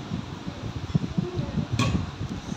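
An electric ceiling fan runs indoors with a steady, close whir, while low soft thumps and rustles pulse irregularly underneath and a brief faint tick cuts in near the end.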